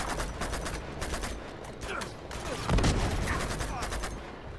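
Rapid bursts of gunfire from a firefight in the video game Uncharted 2, dense and continuous, with a louder heavy blast near the middle, mixed with game effects and some speech underneath.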